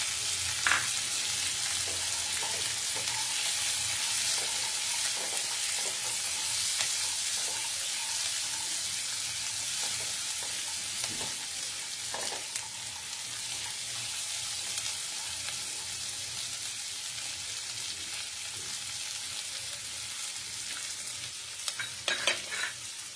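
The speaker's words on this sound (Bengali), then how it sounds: "পেঁয়াজ ভাজা হতে হতে এখানে আমি মটরশুঁটিটাকে দিয়ে দিচ্ছি" Onions and peas frying together in a pan, a steady close hiss of sizzling oil that runs throughout, with a few clinks and scrapes of stirring near the end.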